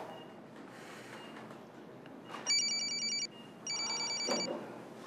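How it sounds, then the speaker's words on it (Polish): Telephone rings in two short trilling bursts, clear and fairly close, over a quiet indoor background with faint rustling. "Mamo, przepraszam cię, muszę odebrać ten telefon wreszcie."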